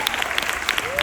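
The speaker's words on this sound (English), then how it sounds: "Give another round of applause for being absolutely amazing" An audience aboard Royal Caribbean's Radiance of the Seas claps in a brief, dense burst at a cruise farewell party, with a voice speaking over the applause.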